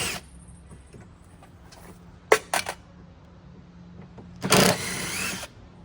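Drill backing out self-drilling Torx screws from a sliding truck drawer, a few clinks and taps followed by one sustained whir close by, no talk.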